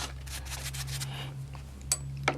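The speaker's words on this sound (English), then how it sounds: "And we just wipe it on a paper towel." A paint brush is wiped against a paper towel, making soft, close rubbing and scuffing strokes in a quick series, followed by a couple of brief sharp taps.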